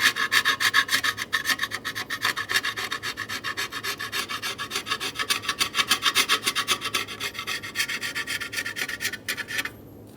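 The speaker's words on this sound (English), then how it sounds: "We're going to go around and clean the mating surface around this top cover using a razor blade or a light abrasive." A razor blade scrapes the top cover mating surface on a 2003-2008 Honda Pilot during fuel injector replacement, giving a steady rhythmic rasping of close, even strokes that continues for about nine seconds, then stops abruptly.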